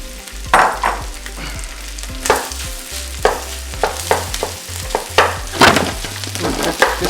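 Rice tumbles into a hot wok for pulled pork fried rice, met by loud sizzling frying and repeated scraping stir strokes and clanks in an uneven rhythm, close up with no talking.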